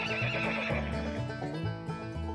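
A horse neighs in a long, loud, quavering whinny that carries through the whole moment, with faint hoof clip-clop mixed in.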